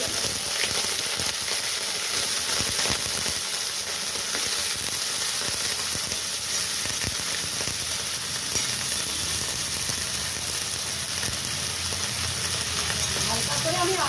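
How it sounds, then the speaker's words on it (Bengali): Potatoes fry lightly in hot oil, a steady bright sizzle with crackling pops throughout, loud and close, with some scraping of stirring at times. "এই তেলেই আমি আলুগুলো হালকা করে ভেজে নেব।"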